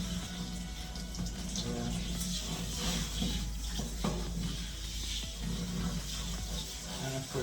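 Running water rinses a dog during grooming with a continuous close splashing rush, and a person briefly says a word over it.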